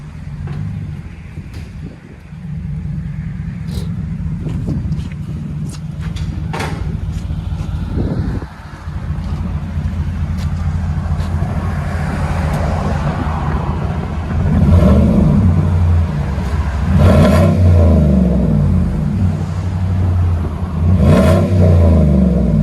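A Chevy/GMC 5.3L V8 with an aftermarket exhaust idles and revs repeatedly, a loud deep rumble swelling with several throttle blips toward the end, heard close and without talking.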